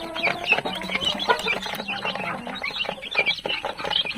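Brahma and Black Australorp chickens, kept together as young birds, cluck and chirp constantly in a busy close-up flock, with overlapping short calls and no one talking.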